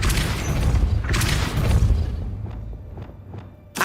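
Depulso spell cast in Hogwarts Legacy: a run of sharp magical blasts with booming thuds, several quick pulses fading toward the end before one last burst.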